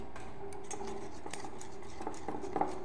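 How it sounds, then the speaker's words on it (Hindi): A bowl of dhokla batter mixed with Eno fruit salt being whisked, giving a steady soft scraping and stirring patter with faint clinks of the utensil against the bowl, fairly quiet and continuous, with no talking. "इसे अच्छे से मिक्स कर लेंगे।"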